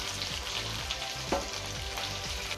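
Boneless chicken pieces for butter chicken fry steadily in hot oil, giving a continuous crackling sizzle with small pops and a brief scrape partway through; no talking.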